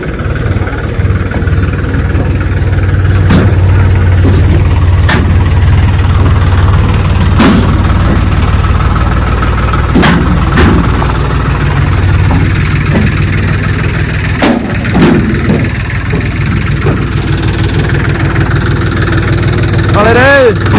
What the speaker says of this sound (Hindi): 5 ट्रैक्टर हैं।